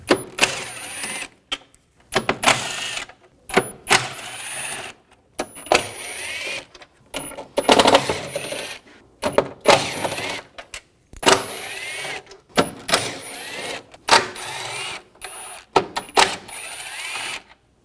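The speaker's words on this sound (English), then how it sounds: "use a T30 socket, take these bolts out" A T30 socket ratchet removing panel bolts on a 2006-2010 BMW 550i, giving close, repeated bursts of quick clicking with short pauses between strokes.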